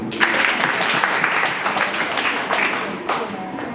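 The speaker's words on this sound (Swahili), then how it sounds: "Tupige makofi." A crowd claps and applauds steadily, with talk audible underneath.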